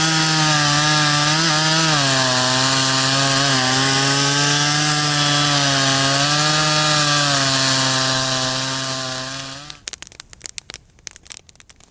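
A loud chainsaw with a dull chain drones steadily through a log for several seconds, then the cut ends and the engine sputters and idles with crackling noise.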